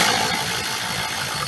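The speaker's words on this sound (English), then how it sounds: "Oh, so much better when you use an impact gun." An impact gun works on a bolt on a 1988–99 Chevy Silverado OBS truck, making a loud, continuous buzzing rattle that lasts the whole short burst.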